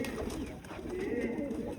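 Pigeons cooing in a coop at a goat farm, soft rounded coos rising over a murmuring background for a brief moment, fairly faint and close.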